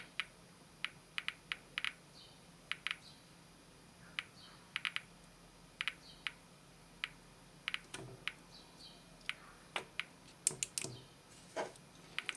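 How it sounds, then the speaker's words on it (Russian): Sharp, irregular clicks from a DP-5A military radiometer heard in headphones, sometimes in quick pairs or bursts, against a quiet background while measuring uranium glass. "щелчки в телефонах тоже слышны"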